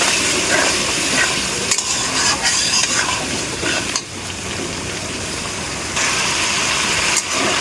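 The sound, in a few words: stir-frying spice paste with a little water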